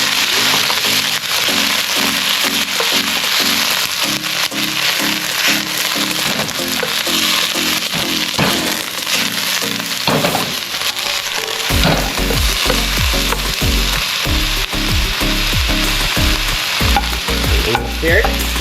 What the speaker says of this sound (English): Now we're dropping the broccoli.